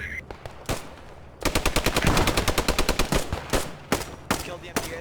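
Rapid automatic gunfire rattles in the Post Scriptum video game, a burst of close, loud shots in quick rhythm after a quieter opening with a few scattered reports, then more spaced single shots toward the end.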